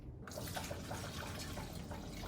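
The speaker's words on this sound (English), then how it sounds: "Now we're going to grab our filtered water and refill it." Filtered water poured steadily to refill an AeroGarden reservoir, a continuous close trickling and splashing stream that starts abruptly and runs without a break.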